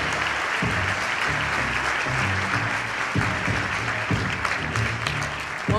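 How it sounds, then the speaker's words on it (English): A large crowd at a national convening of Black male educators claps loudly and continuously, with a dense wash of applause and faint low murmurs of voices mixed underneath. "One more round of applause, nice and loud."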